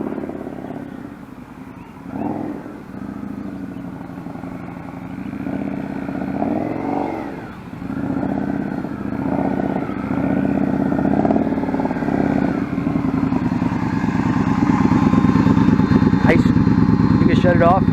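A motorcycle engine running at low speed during a riding lesson, with uneven throttle swells and a steady idle-like drone, heard under ongoing talk.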